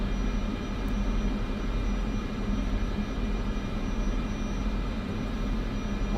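A steady, droning airplane engine from Microsoft Flight Simulator 2024, a continuous broadband hum with a strong low rumble that holds an even level throughout with no talking.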